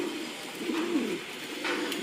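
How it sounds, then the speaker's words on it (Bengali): A single soft coo from a male racing pigeon rolls out once, low and throaty, over a faint, quiet background hiss. "এখানে দুইটা নর কবুতর রাখা আছে"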